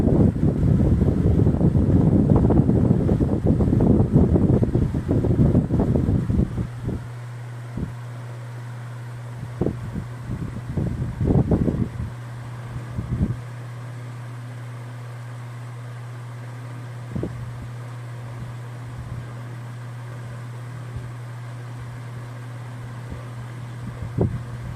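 A Ventisol VOP 60 G4 wall fan runs with a steady low motor hum and whooshing airflow, loud gusty wind noise at the start, then settling into a constant drone with occasional knocks and clicks.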